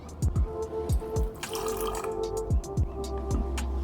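A dissolved chemical solution is poured from one vessel into a glass conical flask. The liquid splashes and gurgles in a steady stream, with rising bubbly glugs repeating throughout, close and clear.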